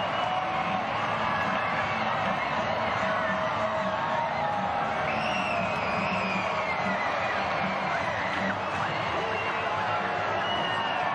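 Large stadium crowd at Al Lang roaring after a goal in a Tampa Bay Rowdies soccer match, a dense sustained wash of cheering and whoops with no letup across the whole stretch.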